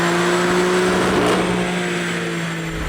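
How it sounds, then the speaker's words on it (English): A tuned BMW F82 M4 running a JB4 Map 7 tune on E60 fuel with a BMS composite cold air intake holds a loud, steady engine drone, nearly constant in pitch throughout. "Here is JB4 Map 7 with E60 in the tank and the BMS composition cold air intake"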